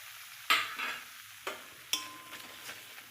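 Ground urad dal frying and being stirred in a pan for radhaballavi, with a few sharp scrapes of a spatula over a soft sizzle, close and alone.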